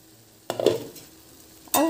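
Onion-tomato masala for bhindi masala cooking in a pan on the stove: a brief metallic stirring clatter and a soft sizzle, then a quieter lull before another sharp scrape of the pan close by.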